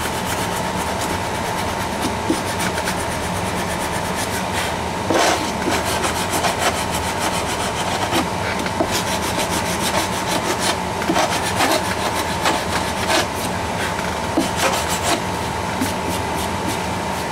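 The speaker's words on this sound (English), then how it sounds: "Now it's just a matter of working the body filler with combination sandpaper, files, whatever you've got to get the right shape." Sandpaper and files working body filler on a plastic F-14D Tomcat model kit: continuous close scratchy rubbing strokes with a steady rasping rhythm and occasional sharper scrapes.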